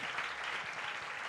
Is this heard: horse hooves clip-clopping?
no